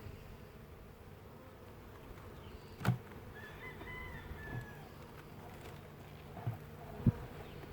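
Honeybees drone in a soft, continuous buzz during a beehive inspection of a colony that swarmed and failed to raise a new queen, faint and steady with a few brief knocks and rustles, and a rooster crowing faintly in the distance.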